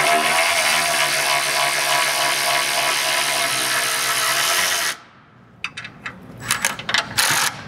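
A power tool spins a bolt off the suspension of a 2018 Ford Raptor pickup, a steady loud whirring drone for about five seconds that stops abruptly, followed by scattered metallic clinks and rattles.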